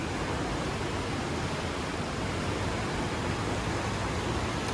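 Broad steady rushing of water from a small outdoor stream or cascade near a little footbridge, a continuous close hiss with no pauses and no voices.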